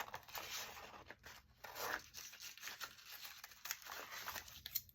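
Scissors cutting paper around a pocket on a small handmade journal book, a run of quiet, close crisp snips and paper crinkles coming in uneven bursts, with no talking.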